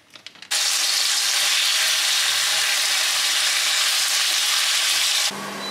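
A loud burst of sizzling as chicken hits a hot wok, then a steady, intense crackling fry that continues unbroken, close up.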